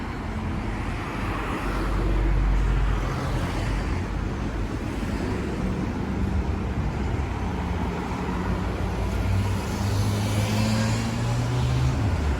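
Steady roar of busy downtown street traffic in Frankfurt, cars rumbling past continuously with low engine drone, loud and close, no voices.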